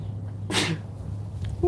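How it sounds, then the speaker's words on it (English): A single sharp sneeze from a man whose allergies are flaring during pollen season, a short loud burst near the mic over a low steady hum, followed by quiet breathing. "Oh, I feel like I'm gonna sneeze."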